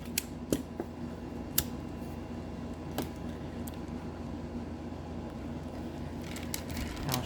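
Scissors snipping off the end of a kandi bead strand: a few faint, crisp clicks and snips scattered over a quiet background, close to the listener.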